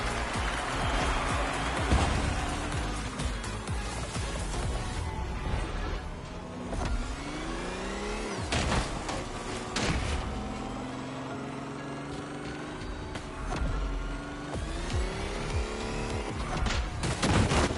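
A Lotus sports car races in The Crew Motorfest, its engine revving up and dropping again through repeated gear changes, loud and continuous throughout.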